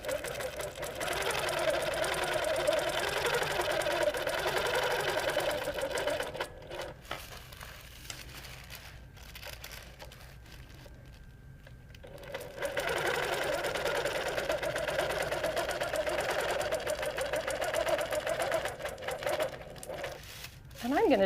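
A sewing machine stitches a quilt along a marked stencil line, giving a steady rapid whirring hum in two long runs separated by a quiet pause of several seconds, while a person talks over it.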